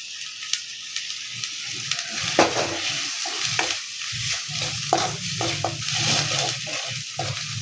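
Ground spices are dropped into hot oil and stirred, a loud continuous sizzle broken by repeated scraping strokes of a spatula against the pan, with no voice.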